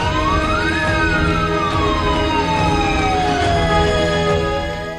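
A converted ambulance put into service for COVID patients sounds its siren, a loud wailing tone that rises and slowly falls, steady and close, with faint traffic rumble underneath.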